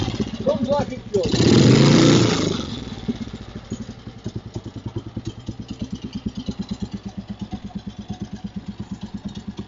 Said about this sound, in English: Idling nicely. Just ticking over.